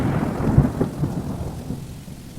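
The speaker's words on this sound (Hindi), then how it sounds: "ये अचानक से बारिश कैसे होने लगी?" Sudden rain falls with a deep, rolling rumble of thunder, strongest early on and fading to a soft, steady hiss.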